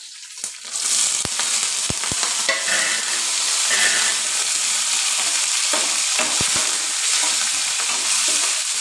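Mustard seeds, curry leaves, green chillies and chana dal sizzle loudly in coconut oil, a dense continuous crackle with several sharp pops from bursting seeds near the start.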